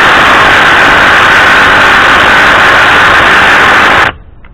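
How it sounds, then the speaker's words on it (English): A Ryobi P235 brushed impact driver on a fully charged 1.3 Ah battery strains against a lug nut: a loud, continuous rattling buzz held steady for about four seconds, then cut off abruptly. "This is the RYOBI brushed P235, impact driver."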